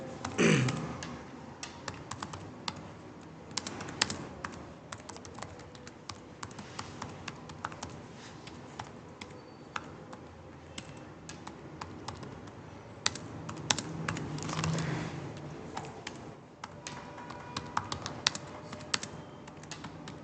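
Code typed on a computer keyboard, rapid irregular key clicks and clacks with short pauses, close and fairly loud, running steadily with no voice.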